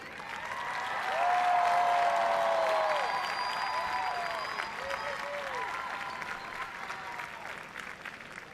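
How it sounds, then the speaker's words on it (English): Graduates at the Mercer County Community College 50th commencement ceremony give a steady round of applause, swelling over the first two seconds and then holding a sustained, fairly distant clapping roar with a few voices mixed in. "So I invite all the graduates to give a round of applause to those who supported you."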